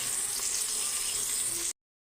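Curry leaves and garam masala sizzle in a frying pan, a steady loud hiss and crackle of hot oil that runs without a break, then cuts off abruptly into silence.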